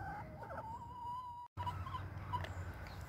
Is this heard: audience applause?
no